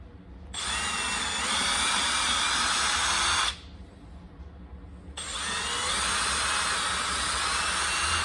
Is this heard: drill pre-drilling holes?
yes